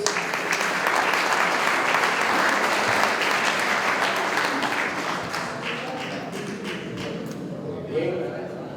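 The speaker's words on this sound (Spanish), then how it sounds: "Fuertes los aplausos." Sustained applause from an audience at a graduation ceremony for motorcycle and vehicle mechanics students, loud and dense throughout, with faint voices mixed in and tapering slightly toward the end.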